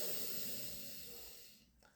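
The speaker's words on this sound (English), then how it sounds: "let's just do a couple of deep cleansing breaths" A slow, deep cleansing inhale through the nose during a guided breathing exercise, a soft steady breathy hiss that gradually fades over about two seconds, close and quiet with no talking.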